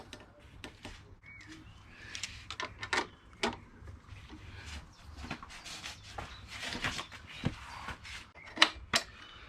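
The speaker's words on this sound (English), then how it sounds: "Now tighten up these bolts." Bolts are tightened on a Touratech pannier mount for a KTM 1290 Super Adventure, with close, quiet ratcheting clicks and metallic rattles coming in irregular bursts.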